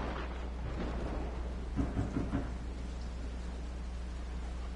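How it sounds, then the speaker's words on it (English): Low thunder rumbles beneath steady rain-like hiss in Resident Evil VII, a faint, continuous storm bed with a few swelling rolls in the middle. "And we got a thunderstorm, too?"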